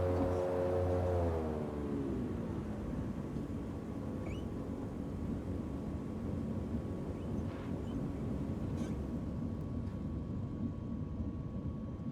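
A DHC-4 Caribou taxis in Microsoft Flight Simulator, its steady droning engine rumble continuing evenly for about twelve seconds, with a brief falling tone near the start and no talking.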